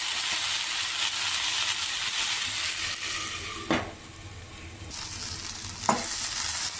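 Okra curry cooks in a pan with a constant close sizzle, broken by a couple of brief scraping strokes as a spoon stirs through it.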